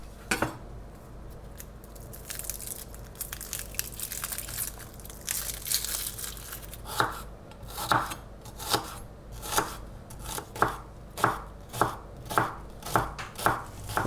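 Shallots chopped with a knife on a cutting board, starting as rapid soft cutting, then turning into about a dozen evenly spaced, distinct chops close by, with no talking.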